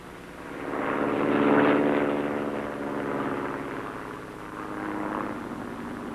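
A Cessna O-1 L-19 Bird Dog propeller plane, a US Army aircraft, drones steadily in flight with engine power reduced, a continuous buzzing hum that swells and eases slightly, heard alone without talk.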